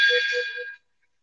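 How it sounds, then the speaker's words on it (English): A single bell-like ring sounds, a bright chime that lasts under a second and then cuts to silence. "Sir, some kind of sound coming, like a bell ring type."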